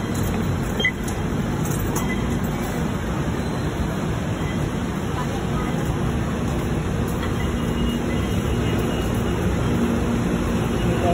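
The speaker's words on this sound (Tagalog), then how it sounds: "Masakay na ako ng MRT." Steady low rumble of an MRT metro train in motion in Quezon City, a continuous rolling drone heard from inside, with faint high-pitched whine above.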